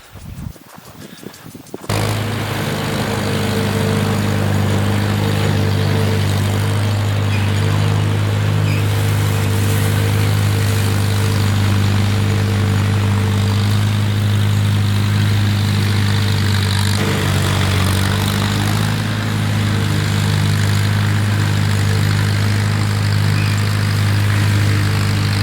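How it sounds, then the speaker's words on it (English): A Farmall M tractor engine that burns a lot of oil runs steadily and loudly at close range with a deep, constant droning rumble, starting abruptly after a brief moment of lighter noise and holding throughout. "once you fire up the tractor, she burns so much oil"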